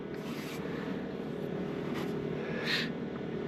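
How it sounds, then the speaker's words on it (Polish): A boat motor's steady low hum drones throughout with no talk, joined by a few faint brief hissy bursts near the middle and end, on a lake. "zapuściłem już motor,"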